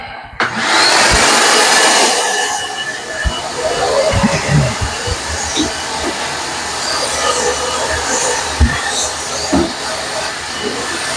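A Samsung clothes dryer runs loudly with a steady broadband roar and tumbling rumble. Irregular thumps sound underneath, and the noise is close and continuous throughout.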